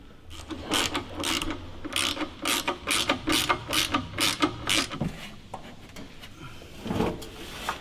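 A ratchet clicks rapidly in a quick burst of rhythmic strokes as an Armytrix exhaust is fitted to a Mercedes C63, close up and clear, then trails off into a few scattered mechanical clunks.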